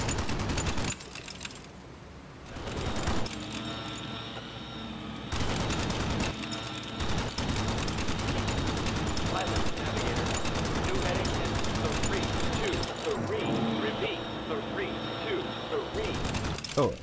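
A B-17 gunner's machine gun firing during a WWII bomber raid over Hamburg, bursts of rattling fire with short pauses amid engine drone and mechanical clatter, close and loud.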